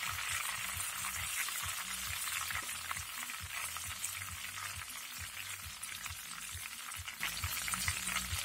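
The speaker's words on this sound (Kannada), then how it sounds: "ಉಪ್ಪು ನೀರು ಹಾಕುವ ಸೌಂಡ್ ಬರ್ತದೆ, ನೀರು ಹಾಕಿದಲ್ಲ ಹಾಗೆ ಸೌಂಡ್ ಬರ್ತದೆ ಅದು." Banana chips frying in hot oil as salted water is splashed in, giving a dense, steady sizzle and crackle close up, swelling a little louder near the end.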